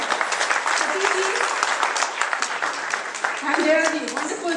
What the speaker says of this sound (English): I think they deserve a bigger round of applause.